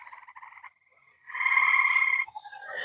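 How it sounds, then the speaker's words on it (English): Frogs croak close by in a quiet outdoor pond setting, with a short pulsing call, a brief hush, then a louder sustained trilling chorus that breaks into scattered croaks. "I could stand here all day listening to the frogs."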